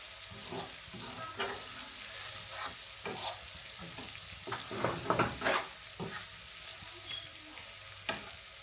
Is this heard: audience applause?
no